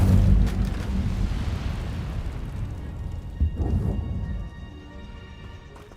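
The Incendio fire spell is cast in a Harry Potter video game with a loud, roaring burst of flame that starts strong and gradually dies down, followed by a brief swell and a quieter tail.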